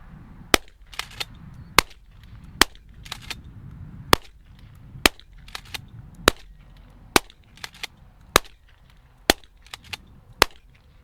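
Sharp, muffled shots from a 12-gauge shotgun with a JK Armament 195 Versax suppressor, fired one after another at a steady, unhurried pace, each a quick crack with no voices in between.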